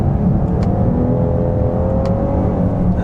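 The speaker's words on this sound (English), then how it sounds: "put it over into the manual shift mode here and try some downshifts here" Cadillac XT6 Sport SUV engine revving through manual paddle downshifts, a steady mid-level drone with a rising whine over a low rumble, heard from inside the cabin.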